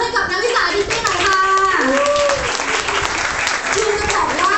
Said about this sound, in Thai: เขาเสียงปรบมือให้กับนักวิจัยที่นี่หน่อยค่ะ